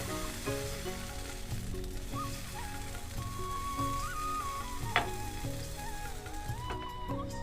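Rice-flour patisapta batter sizzles on a hot tawa, a constant dense crackle and hiss with a sharp spike midway, close and steady without talk.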